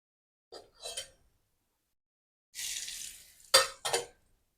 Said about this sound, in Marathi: छान आपली चुरचुरीत फोडणी बसलेली आहे.